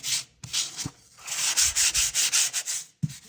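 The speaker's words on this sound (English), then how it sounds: "you want to keep sanding that whole area until you get everything down to this level" Hand sanding of lacquer on a window, a run of short rhythmic abrasive rubbing strokes, close and fairly loud, with brief pauses between bursts and no talk.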